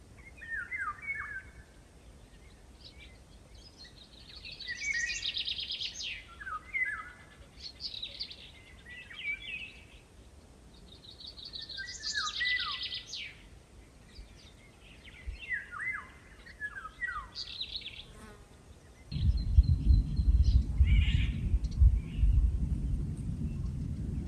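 Bird song recorded outdoors on Lesvos: repeated phrases of bright chirps and trills at moderate distance, followed by a louder, rougher call with a broad grating quality near the end.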